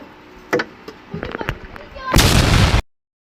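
A bomb goes off in a zombie video game, a loud broad blast lasting under a second after some scattered clicks and thuds, then sudden silence; faint voices may sit underneath.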